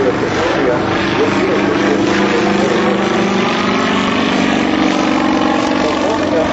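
Sukhoi SU-31 aerobatic propeller airplane performing at the 2006 Willow Grove air show, its engine roaring loud and steady throughout with a droning, buzzing propeller tone.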